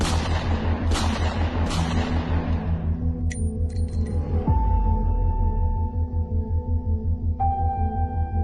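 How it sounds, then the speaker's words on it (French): Three booming gunshots in quick succession in a presidential district at night, each echoing away, over a low pulsing musical drone that continues with sustained tones afterward. "3 coups de feu résonnent dans le quartier présidentiel"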